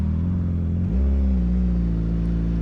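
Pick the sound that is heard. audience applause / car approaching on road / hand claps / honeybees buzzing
car approaching on road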